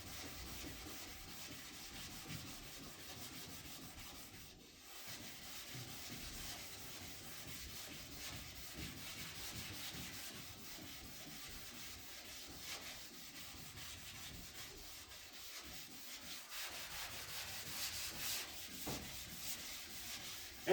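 Sandpaper rubbed back and forth by hand across a wet panel while blocking, a steady soft scratchy rasp that keeps going for the whole stretch with no talk.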